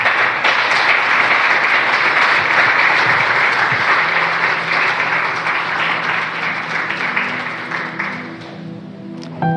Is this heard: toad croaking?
no